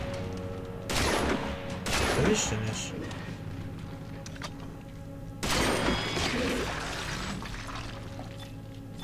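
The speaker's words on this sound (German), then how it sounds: "Jetzt habe ich gerade 5 Schüsse oder 4, nur für das eine Ding verballert" Gunfire in the science-fiction horror game Dead Space 2 comes as two loud bursts of shots a few seconds apart, with someone talking over and between them.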